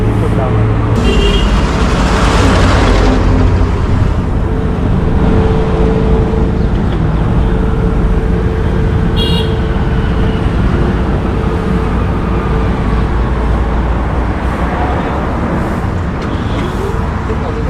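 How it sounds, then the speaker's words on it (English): Busy road traffic in Old Delhi, a steady loud wash of engines and road noise with occasional horn toots, continuing throughout while people talk nearby. "Just wait for the traffic to slow down."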